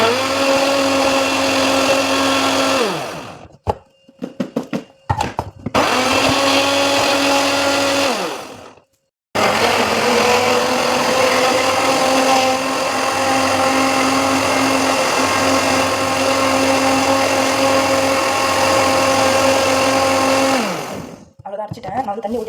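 A mixer grinder blends juice with water in loud, close bursts of whirring motor noise, starting and stopping several times with short pauses between runs before one long continuous spin.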